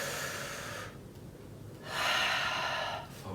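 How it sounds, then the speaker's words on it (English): Two slow, deep breaths taken at the start of a barre workout: a long exhale fading into a pause, then a fuller audible inhale, close and breathy with no talking. "Let's take a couple of deep breaths together"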